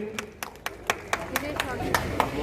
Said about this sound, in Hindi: कृपया तालियां।